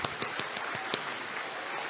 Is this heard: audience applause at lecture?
yes